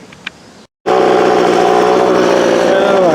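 Hyper Tough string trimmer engine revs up after a short silence into a loud, close, high buzzing whine that holds steady with slight pitch shifts.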